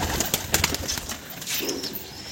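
Roller pigeons in a loft make soft, brief coos and scattered flutters and clicks, fairly faint and close by, with no talk.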